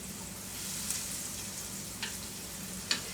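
Green zucchini frying in a pan on medium-high heat, a soft steady sizzle with a few light utensil clicks, faint and close, without speech.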